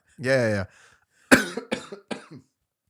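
A person coughs close to the microphone during a live cricket podcast, one long raspy vocalised hack followed by a short burst of several quick rough coughs, then silence.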